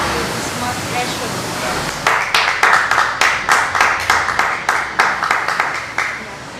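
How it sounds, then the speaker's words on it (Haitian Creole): Warm audience applause breaks out after a quiet murmur, a burst of sharp, overlapping claps that rises quickly and stays strong, pulsing slightly as it continues. "on a un applaudissement très chaud"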